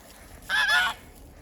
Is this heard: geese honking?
yes